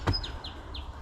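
A bird calls at a garden wetland in Yarra Glen, giving three short, high chirps spaced evenly across about a second, faint against a low background rumble with no talking.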